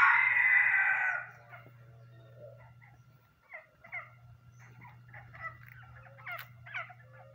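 Backyard chickens on a rural smallholding in Brazil, with a loud crowing-like call at the start followed by scattered clucks and short calls over a steady low hum, no talking.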